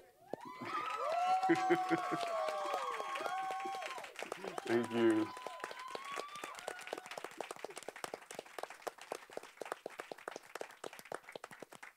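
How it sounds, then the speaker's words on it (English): Applause and clapping from an audience at an Amsterdam event on Caribbean spirituality, swelling early and holding steady before breaking into scattered claps, with voices and a brief thank-you spoken over it. "Can you please hear this applause?"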